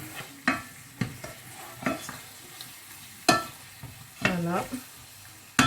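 Meat frying with onions in a pan, with sporadic stirring scrapes and clatters over a low, steady sizzle, close by; a voice speaks briefly.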